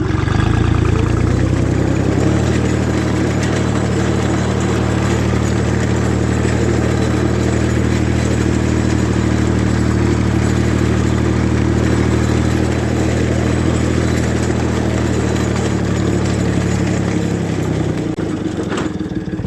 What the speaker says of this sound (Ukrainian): Косимо сегментна косілочка в нас.